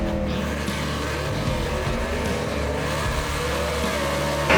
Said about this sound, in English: Alfred Adams lets the clutch out a little too soon and rolls the beam, and red is dead in any type of drag racing